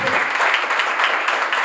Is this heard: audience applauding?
yes